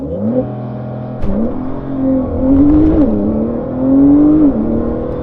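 A 2019 Porsche 911 992 Carrera 4S launching on a wet road, its engine revving up loudly through rising pitch sweeps with a brief dip between gears, close and unaccompanied by speech.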